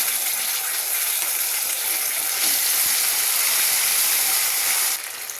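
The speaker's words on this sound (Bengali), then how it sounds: "হয়ে গেছে ভাজা। টমেটো সস দিয়ে দেবো।" Tomato sauce hitting a hot pan of fried potatoes, producing a loud, dense, continuous sizzle and hiss that swells partway through, then drops off sharply near the end.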